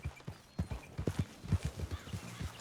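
Horse hooves clip-clop in Red Dead Redemption 2, a quiet, uneven trotting rhythm of repeated soft thuds close by, with no talk over it.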